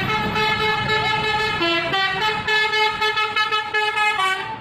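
A toy super bus telolet horn plays a loud, bright melodic tune of sustained horn notes that change pitch in quick succession, close up and alone.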